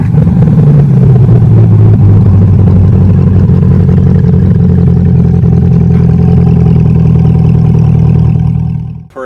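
A Chevrolet Corvette C8 with an MRT Performance cat-back exhaust idles loud and close. A rev swells into a deep, steady droning rumble that holds for several seconds and then cuts off sharply at the end.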